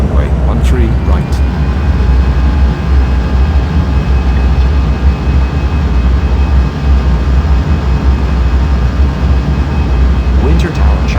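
A Korean airliner takes off from runway 13 right in an air traffic control game, with a loud, steady low jet engine roar that runs throughout and a voice talking over it.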